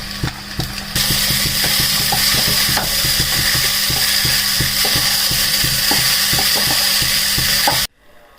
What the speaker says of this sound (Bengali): ভিজে রাখা চিড়া ঢেলে দিচ্ছি।